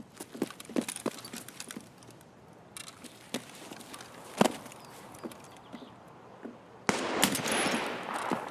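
Gunfire in the video game Escape from Tarkov, heard as scattered sharp single shots at varying distances. The shots stand out from quiet ambience, and a louder, rougher noise starts near the end.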